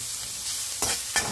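Onions and garlic frying in a pan give off a steady low sizzle, broken by two louder stirring scrapes near the end, with no talking.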